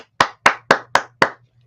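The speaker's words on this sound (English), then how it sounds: "Everybody start the slow clap." Five slow, evenly spaced hand claps ring out one after another, sharp and close, a deliberate mock slow clap with a faint low hum beneath.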